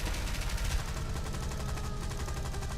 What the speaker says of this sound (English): With all this AA just shooting at me